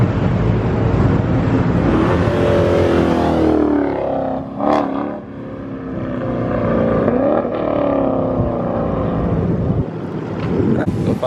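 A Mopar car engine revving at a car meet, loud rising and falling revs with changing pitch, heard up close amid wind buffeting on the microphone.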